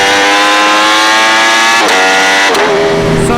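A Ducati Panigale V4 Speciale motorcycle engine screams at very high revs, loud and close, with strong harmonic whine rising, dipping briefly at gear shifts and climbing again, with no voices.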